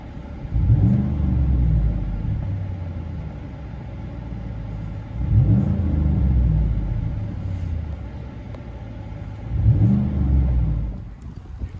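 Deep rumble of a GMC Denali 6.2L V8 truck with an aftermarket exhaust heard from inside the cab, with three swelling revs spaced a few seconds apart between lower idling stretches.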